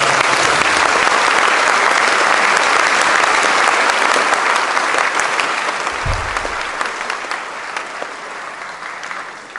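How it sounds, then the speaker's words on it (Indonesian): Applause from the audience at an Indonesian university practitioner lecture on transportation human resources, a dense sustained clapping from a sizeable crowd that fades gradually toward the end. "tepuk tangan sekali lagi"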